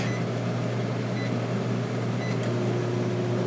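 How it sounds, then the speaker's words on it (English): A microwave oven running inside an RV on off-grid solar power gives a steady, close hum with a low tonal drone throughout, plus faint beep-like tones near the end. "Okay, I got something in the microwave. I'm just gonna go ahead and put it on for a few seconds"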